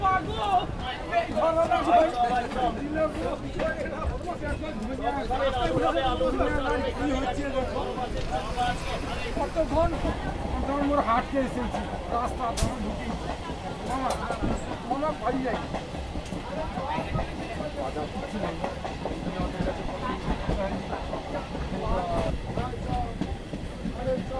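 A local train on the Howrah–Kharagpur line pulls out of Khirai station with a continuous rumbling run and rhythmic clickety-clack, steady and close, with voices talking over it throughout.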